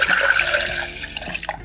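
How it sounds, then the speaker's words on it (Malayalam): Milk poured into a mixer jar for dalgona coffee, a brief continuous liquid splash and gurgle that tapers off, heard alone and close. "അതിനുശേഷം നമ്മൾ എടുത്തു വെച്ചിരിക്കുന്ന പാല് ഇതിലോട്ട് ഒഴിച്ചു കൊടുക്കാം."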